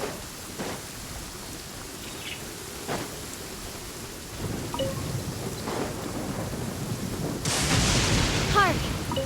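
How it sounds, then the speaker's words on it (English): Thunder rolls and rumbles through steady rain in the Genshin Impact video game, with a broad crack and a louder downpour swelling near the end. "Hark! 'Tis thundering retribution, an omen of dark times ahead."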